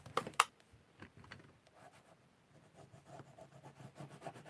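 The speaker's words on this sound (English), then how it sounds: "And give it a good rub, rub, rub, rub, rub." Paper is rubbed by hand during card making, producing soft scratchy strokes after a couple of sharp taps at the start, quiet and close.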